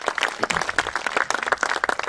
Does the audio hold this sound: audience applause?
yes